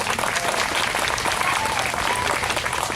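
At a Canada 150 grand opening in Newcastle, Ontario, an outdoor crowd applauds students in a sustained, dense roar of clapping with some voices mixed in.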